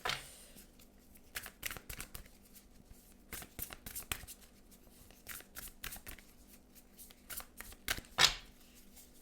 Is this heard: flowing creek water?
no